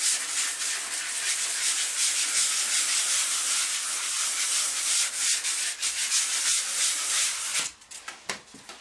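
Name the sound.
sanding primed painting surface in circular motion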